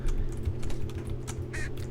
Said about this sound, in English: I'm just mashing all my keys.